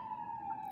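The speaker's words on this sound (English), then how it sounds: "How cozy with the ambulance in the back." An ambulance siren wails steadily in the distance outside a house, holding a single drawn-out tone throughout, moderately loud with no talking over it.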